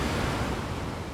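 Ocean waves in a dense, continuous roar of surf that sounds close and loud, with a windy broadband wash and no voices.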